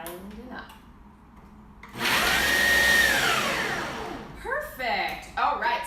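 A kitchen appliance whirs loudly, grinding raw vegan doughnut hole ingredients with a splash of salt in one steady burst of about two seconds, with a person talking before and after it.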